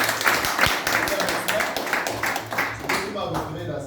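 Audience applause at a business mentoring training session, with scattered clapping in uneven bursts that fades toward the end.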